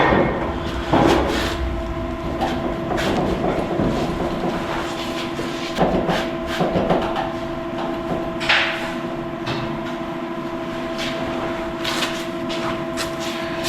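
Metal clanks and knocks as an old air compressor is pried out of a 2007 Kenworth T800 semi truck with pry bars, irregular bangs over a steady hum in a workshop, no talking.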